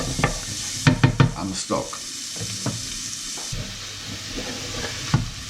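Tomatoes and other ingredients sizzle and fry steadily in a pan for fish soup, a continuous close hiss with scattered clatters of stirring, while a person speaks briefly over it.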